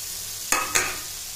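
Onions tipped into a pan of sizzling fried spice masala with salt and turmeric give two quick, bright bursts of frying hiss close by over a steady low sizzle, with no talking.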